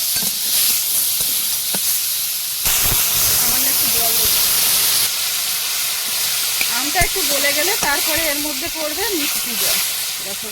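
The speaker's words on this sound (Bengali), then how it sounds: "সামান্য একটু তেল দিয়েছি তাহলে ভাজা হবে কিন্তু পুড়ে উঠবে না" Food in a little oil gives off a steady, bright hiss close by, with someone speaking over it partway through.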